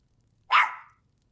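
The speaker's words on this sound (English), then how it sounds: "Be a good dog." A single short, sharp dog bark rings out close and loud against an otherwise quiet background, with no talking.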